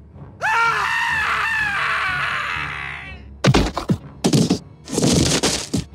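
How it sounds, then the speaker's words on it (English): Crowd of roller coaster passengers screaming in panic in a short animated scene, a long sustained group scream followed by bursts of shrill overlapping shrieks, loud and close. "Everyone starts screaming."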